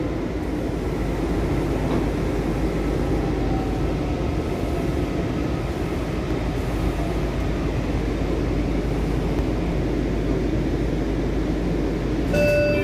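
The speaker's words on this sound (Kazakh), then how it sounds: "Біз метрода келе жатырмыз" A steady loud rumble of a Washington DC Metro train in motion, with constant wheel and track roar throughout and a brief chime near the end.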